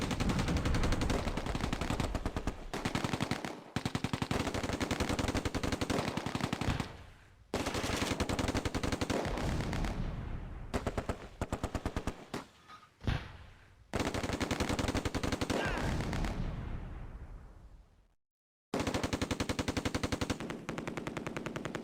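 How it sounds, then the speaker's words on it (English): Bren and Vickers machine guns fire in the World War II game Close Combat: long, dense, loud rattling bursts with short breaks and one longer pause near the end. "The Bren and Vickers target the Aufklärer in the open."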